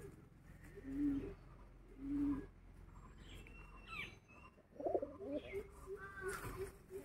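Soft, low cooing of a male pigeon in repeated short phrases, close by, with someone talking quietly at times.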